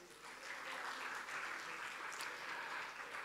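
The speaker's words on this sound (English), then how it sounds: "Would you please give a big applause for the students," Audience at an ASEAN Plus Three tourism training and education panel session applauds the students with soft, continuous clapping, fairly distant and quiet.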